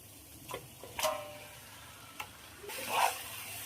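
Chicken is stirred into a spiced masala in a pan for chicken do pyaza, with faint sizzling and a few quiet scrapes and clinks of the spoon against the pan.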